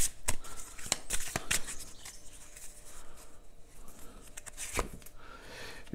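A tarot card drawn from the deck and handled, giving soft, quiet paper rustles and sharp flicks: a cluster of crisp snaps early on, then lighter shuffling and one more flick near the end.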